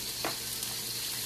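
Pork pieces browning in a pan, spread apart so each has its own spot, give a steady close hiss of frying with one brief sharper crackle early on, no voices.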